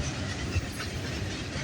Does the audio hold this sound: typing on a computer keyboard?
no